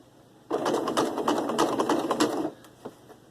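A sewing machine stitching coiled rope into a bowl runs in one fast rhythmic burst of about two seconds, close and clear, then stops with a small click.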